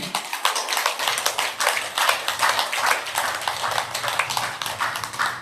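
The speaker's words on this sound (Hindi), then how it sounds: "दोस्तों तालियां उनके लिए नहीं है, आपको जगाने के लिए।" An audience of yoga students claps in an anatomy class to liven up the room, a loud, busy run of many overlapping claps with sharp individual hits, carrying steadily without a break.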